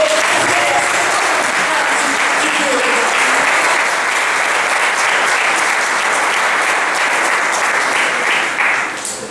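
Loud, sustained applause from a large church congregation, clapping steadily for about nine seconds before easing slightly at the end.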